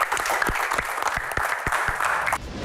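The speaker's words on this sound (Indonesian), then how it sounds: "tepuk tangan untuk Pak Bolot" Lively audience applause for a comedian at a Q&A show, dense clapping with several sharp, louder claps standing out, continuing for over two seconds before cutting off abruptly.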